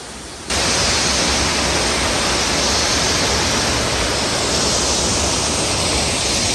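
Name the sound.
waterfall at Finca Sacmoc, Guatemala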